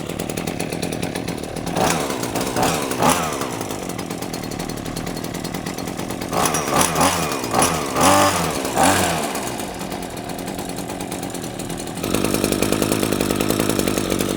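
A Neotech 26cc 6-in-1 lawn trimmer's two-stroke engine runs close by, buzzing loudly with rough idle stretches and a few throttle blips that rise and fall, then settling into a harsher, louder steady run at the end.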